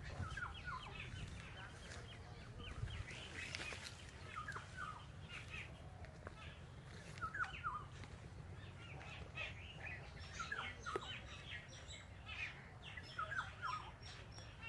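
Out on a school playing field, a bird calls again and again in faint, distant bursts spread evenly across a quiet, rumbling outdoor background, with no one speaking.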